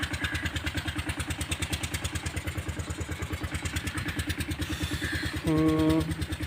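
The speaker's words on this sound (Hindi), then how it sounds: "मैं बैठा हूँ बाहर और ट्यूबवेल चल रहा है" Tubewell pump engine running outdoors in a village, a loud steady single-cylinder thumping, close and rhythmic throughout, with a brief tonal beep near the end.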